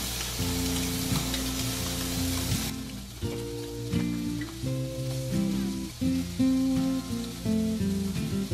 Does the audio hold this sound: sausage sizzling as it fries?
yes